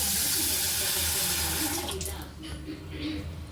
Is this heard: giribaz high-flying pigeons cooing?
no